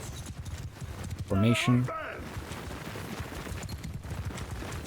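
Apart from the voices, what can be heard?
horses galloping in the video game Mount & Blade II: Bannerlord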